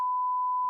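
A steady censor beep, a single pure tone held loud and alone for under a second.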